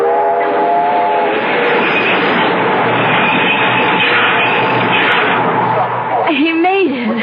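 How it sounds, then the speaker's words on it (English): A train sound effect in an old CBS radio mystery drama: loud rumbling rail noise with a whistle blast near the end, running under dramatic speech. "Caleb, stop the train."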